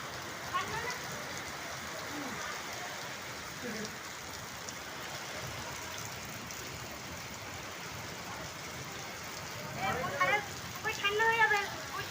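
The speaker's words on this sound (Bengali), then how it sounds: "প্রচুর পরিমাণে বৃষ্টি ঝড়।" A heavy rainstorm gives a steady wide hiss of falling rain that stays even throughout, and a few brief louder bursts of other sound come near the end.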